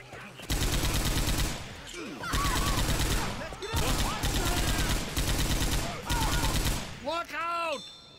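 A big gun firing in the zombie shooter Left 4 Dead 2, loud sustained bursts of rapid automatic fire in several long strings with brief pauses, close up, with voices shouting over the shooting.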